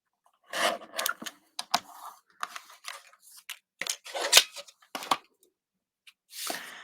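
Scissors snipping through paper trimmed for a folded greeting card, a run of close, crisp irregular cuts with short gaps between them, heard alone.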